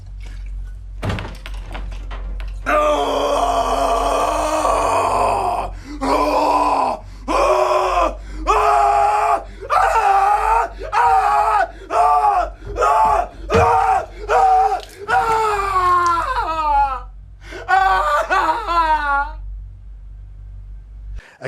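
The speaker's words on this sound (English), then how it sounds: "he screams, and it's a visceral, primal scream from the pit of his stomach" In a film scene, a man lets out a visceral, primal scream of despair, then a long series of loud, strained wails and groans, one after another with brief gaps, ending in ragged cries.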